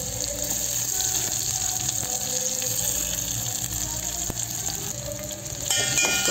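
Onions sizzling in a pan while tempering for tomato carrot rasam, a steady close frying hiss that runs throughout with faint clinks, no talking.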